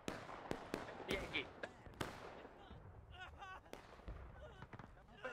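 Scattered musket gunfire in the Civil War video game War of Rights, sharp cracks near and far at irregular intervals, some close reports, mixed with voices talking and other background battle noise.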